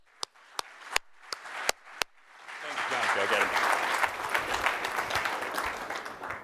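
Audience at a 2019 real estate technology summit welcomes a speaker to the stage, starting with a few sharp isolated claps that quickly swell into sustained, fairly loud applause from a large crowd.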